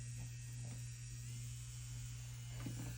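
Electric nail drill spinning a 5-way carbide bit at a setting of about 9, used on acrylic nails during a floral encapsulation, giving a steady close motor hum and whine with no talk.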